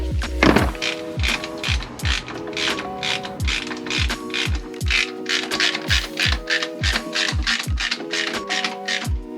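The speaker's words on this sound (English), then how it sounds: "Do you just want the socket? Yeah," Socket on a ratchet turning on a KE70 Corolla engine, a rapid series of close, crisp clicks in repeated bursts with brief pauses between strokes.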